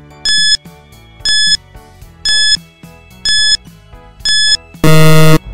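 A quiz countdown timer beeps five times at an even pace, each a short bright electronic pulse, then ends with a louder, harsher buzzer blast; no voices.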